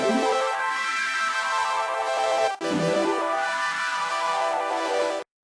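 An Oberheim OB-6 synthesizer on the "Coded Wraith" patch gives a dense, buzzy sustained pad with swelling low notes, one brief break midway, then it cuts off near the end.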